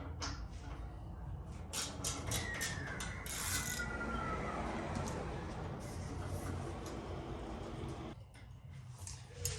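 A 3/8 inch ratchet loosening the seat bracket bolts on a motorcycle during a Saddlemen seat install, with soft clicking and scraping mechanical rubs, fairly faint and close.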